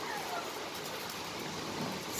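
Heavy rain falls in a steady, even hiss that holds at moderate loudness for the whole stretch, with no speech over it.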